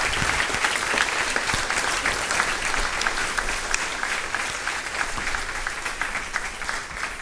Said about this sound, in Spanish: Un aplauso fuerte a Dios